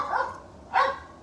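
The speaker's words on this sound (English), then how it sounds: "That's my dog." A dog gives two short barks close by, separated by a brief pause.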